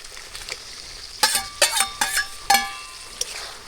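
Fried prawns dropped into hot oil with cooked-down spices, bursting into loud sizzles in several sharp spurts with stirring clatter between them, then easing back to a softer crackle.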